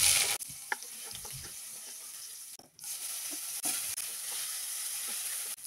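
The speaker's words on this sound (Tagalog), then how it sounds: "Gigisa ko na itong aking pork" Ground pork, plain with no vegetables, sizzles and crackles in a pan, with stirring scrapes and short bursts of frying heard close up, fairly quiet overall.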